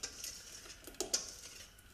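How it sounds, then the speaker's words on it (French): A spoon stirs flan batter thinned with a little water in a saucepan, making faint, scattered scrapes and light clicks against the metal in a quiet kitchen. "vous ne cessez pas de mélanger pour éviter qu'en fait la pâte colle"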